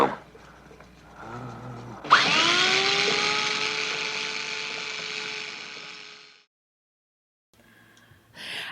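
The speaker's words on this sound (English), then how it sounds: "Cranial drill." A cranial drill in a 1966 surgery film scene whines at a steady high pitch for about four seconds, starting abruptly after a brief murmur and cutting off into silence, with faint sounds returning afterward.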